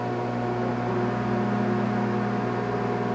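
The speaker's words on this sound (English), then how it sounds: "let's set the microwave for 10 seconds, and for 15 seconds" A microwave oven runs with a container of water inside, giving a steady mechanical hum with a constant low drone and even broadband whir throughout, close and alone.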